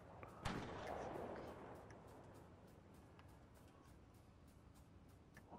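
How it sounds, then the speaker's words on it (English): Gunfire in a Fortnite match, a sharp distant shot followed by a rumbling echo and a scattered series of faint, evenly spaced pops fading into the background. "they're shooting each other"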